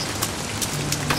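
Rain in the side-scrolling puzzle game Toby: The Secret Mine pours down as a steady, dense hiss, with a few brief brighter splashes standing out over the continuous patter.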